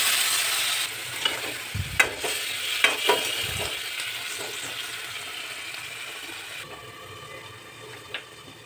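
Water poured into a hot pan while cooking, with a spoon stirring and scraping through a steady sizzle, a few sharp clatters near the start, then the frying settles to a softer hiss.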